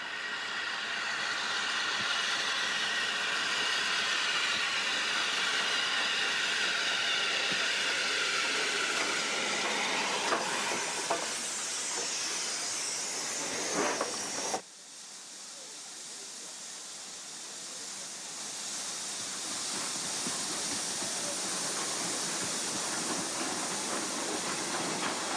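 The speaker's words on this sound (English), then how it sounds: "4MT, number 80135, coasts to a halt as number 5 passes with the return train." Steam train on the North Yorkshire Moors Railway in Cropton Forest, BR Standard 4MT 80135 halting as another locomotive passes with a return train; a loud sustained hiss of steam fills the scene, abruptly dropping then swelling again.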